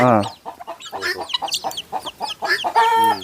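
Bhimavaram native chickens clucking and peeping up close in quick, uneven bursts, with a louder squawk near the end.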